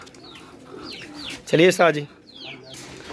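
Paired pigeons kept by a fancier coo softly in the background, with several low repeated calls around a brief louder burst of nearby speech.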